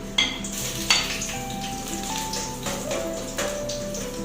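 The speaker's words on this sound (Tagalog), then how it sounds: "So yan guys, lagay na natin yung garlic." Garlic hits hot olive oil for a ginisang bottle gourd dish with dry shrimp, giving a bright crackling sizzle with sharp bursts as it is stirred and a metal utensil scrapes the pan.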